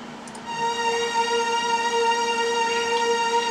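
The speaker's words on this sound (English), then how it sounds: "So the pad sound basically is this." A sustained synth pad holds a steady chord with a soft, airy shimmer, played alone without any talking.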